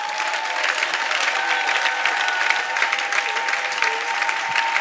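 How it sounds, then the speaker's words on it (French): A church congregation breaks into a loud, steady ovation of clapping and cheering in praise of Jesus Christ, dense applause filling the whole stretch with a faint sustained tone underneath. "je vais nous prier de donner une pluie d'acclamations à notre Seigneur"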